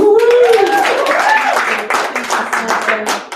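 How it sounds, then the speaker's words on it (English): An audience at a motivational event claps to welcome a woman to the stage, clapping rising under a voice at first and then continuing as scattered applause. "So let's give her a big round of applause."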